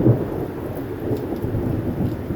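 Heavy rain pours steadily during a thunderstorm over cotton fields, a dense, even hiss of rainfall with a low rumble underneath and no voices.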